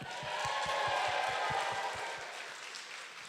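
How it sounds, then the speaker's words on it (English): An audience applauds the vendors at an event: a steady wash of clapping that swells and then slowly fades, with some low thumps underneath. "Please give them a round of applause."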